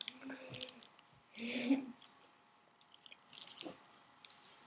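A Goldendoodle crunches and bites on a treat, a short burst of chewing in the middle with a few faint clicks and soft movement around it, fairly quiet.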